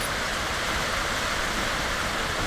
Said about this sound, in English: Look at the rain. It's all around us.